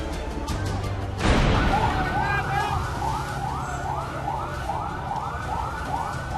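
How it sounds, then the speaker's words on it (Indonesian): Fire truck sirens wail repeatedly in a steady rising-and-falling cycle as trucks arrive at a fire on Jalan Pinang Raya, Rawamangun, East Jakarta, loud and continuous over street noise after a brief burst at the start. "Belasan truk pemadam kebakaran berdatangan ke Jalan Pinang Raya Rawamangun, Jakarta Timur"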